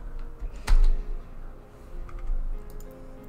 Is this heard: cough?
no